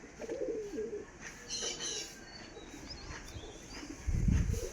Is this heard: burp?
no